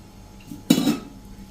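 Metal pan clanks once against a stovetop as it is set down for oil, a short close clatter in an otherwise quiet kitchen.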